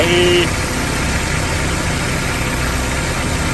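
A car engine idles steadily while its cooling system is flushed to fix overheating, a loud, close, continuous mid-pitched hum with vibration throughout and a brief whine at the start, no voices.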